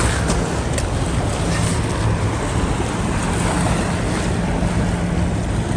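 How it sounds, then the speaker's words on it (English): Waves wash onto the Thames foreshore as the tide comes in, a constant loud rush of water mixed with heavy wind buffeting the microphone, with no voices. "Tide coming in."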